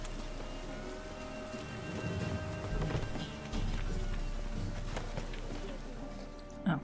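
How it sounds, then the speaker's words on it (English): Steady rain falls in The Witcher 3: Wild Hunt, a continuous hiss with a low rumble beneath, under game ambience with faint clip-clop footsteps and a brief sharp sound near the end. "Raining again."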